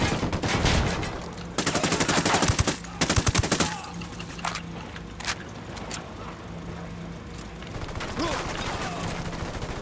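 Video game gunfire in Ghost Recon Wildlands: loud bursts of automatic rifle fire in rapid clusters, then scattered single shots and quieter distant firing under a continuous engine-like drone.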